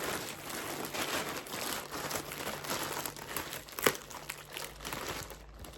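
Crinkling plastic wrapping from a Temu package being unboxed, a steady rustle of handled plastic throughout with a sharper crackle near the end, close and fairly quiet.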